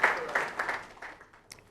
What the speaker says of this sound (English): A round of applause to him.